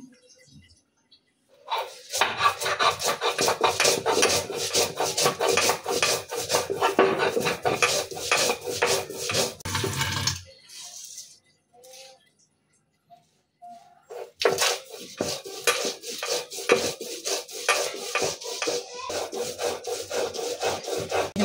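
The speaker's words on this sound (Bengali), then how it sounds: "তো সর্ষেটা বাটাইছি।" Mustard seeds ground on a grinding stone, rhythmic scraping strokes of the stone in two long bursts separated by a pause, close and fairly loud.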